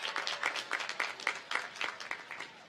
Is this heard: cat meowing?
no